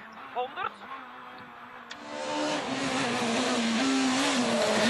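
A Skoda rally car on a tarmac stage at Rali Vinho da Madeira approaches from the distance, its engine note rising into a loud, sustained high-revving roar that holds steady as it draws near.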